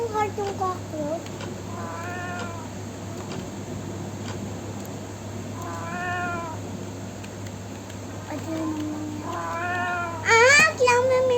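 A cat meows three times at spaced intervals, each call clear and mid-loud, with a steady hum and soft ticking underneath and a brief sharper sound near the end.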